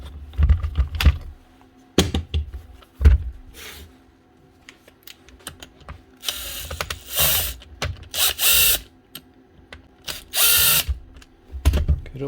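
A Makita power tool with a suspected board or battery connection fault bursts into short hammering runs that cut in and out, interleaved with clicks and mechanical knocks, loud and close with no talk.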